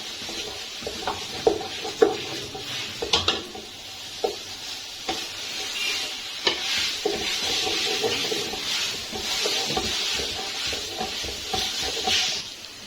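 Carrots, capsicum and onion frying in a pan, a steady close sizzle with scattered spoon scrapes and knocks against the metal running through it, no voices.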